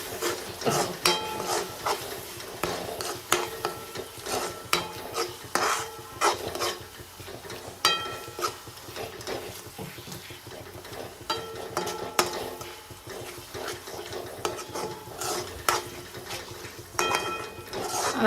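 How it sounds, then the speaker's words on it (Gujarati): Garam masala and spices for chhole stirred in a metal pan, a spoon scraping and knocking against the sides in irregular bursts over a soft sizzle, close and fairly loud. "મસાલાને સારી રીતે હલાવી નાખશું"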